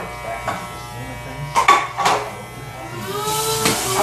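Electric clippers buzz steadily with a few sharp clicks and bumps as they pass over hair, up close, with brief voices nearby.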